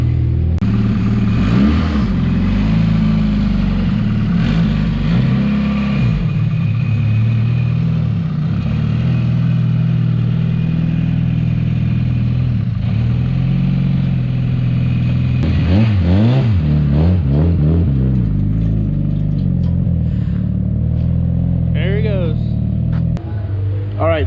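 A Honda CRX with an EF engine, converted from DPFI to multi-point injection, rumbles steadily and rises and falls in several revs. It is loud and close throughout, with people talking over it.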